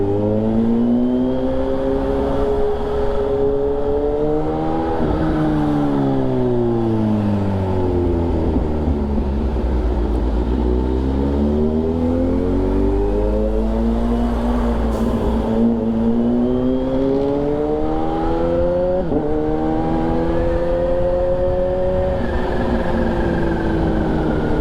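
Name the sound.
vehicle engine revving loudly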